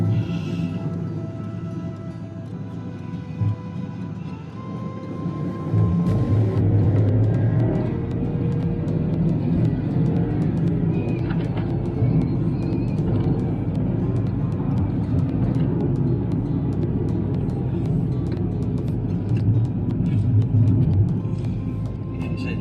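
A car engine hums and labors steadily driving up Healy Pass in Ireland, growing louder after a few seconds and holding a low rumble as it climbs, with occasional voices over it.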